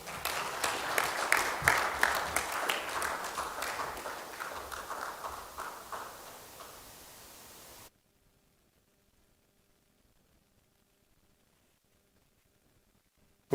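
An audience at a corporate event hosted by GSK applauds after a welcome message from the managing director, a thick burst of many hands clapping that slowly fades over several seconds and then drops into near silence.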